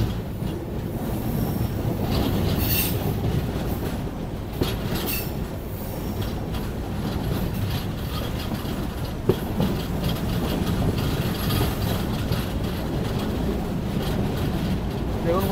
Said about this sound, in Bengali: যার মধ্যে দিয়ে যাচ্ছে কাঞ্চনকন্যা এক্সপ্রেস।